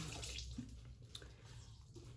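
Warm water runs steadily from a tap into a basin to wet a rag, a soft continuous splashing flow at low level throughout.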